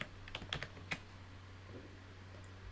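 Keys clatter on a computer keyboard as a SQL query is typed, a few quick clustered taps near the start, then quieter sparse keystrokes over a steady low hum.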